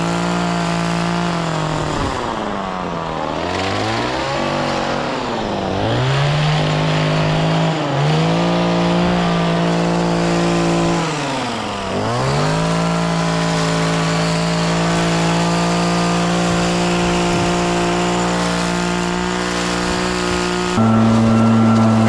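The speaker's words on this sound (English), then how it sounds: "I'm kind of blowing this dusting of snow with all the leaves, which slows stuff down a little bit, but these Red Max blowers got a ton of power" A Red Max leaf blower clearing a light dusting of snow mixed with fallen leaves roars loud and close, its engine pitch rising and dipping repeatedly as the throttle is worked, then holding a steady high whine.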